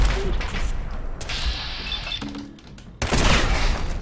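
Gunfire in the video game Fallout 4 comes as bursts of shots and crashes in a game scene, with a loud blast returning near the end over busy background sound.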